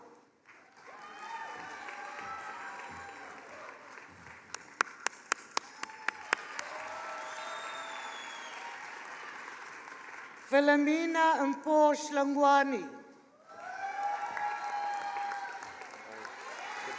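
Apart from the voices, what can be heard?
graduation audience applause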